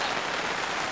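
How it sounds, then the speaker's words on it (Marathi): Light drizzling rain falls outdoors, a soft, even hiss that lasts only a moment. "लय जोरात पाऊस नाही,"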